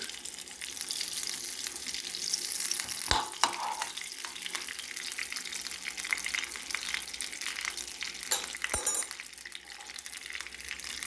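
Ghee sizzles and crackles steadily in a pan while cooking banana kozhukkatta, a soft continuous frying hiss broken by a couple of sharp utensil knocks against the pan.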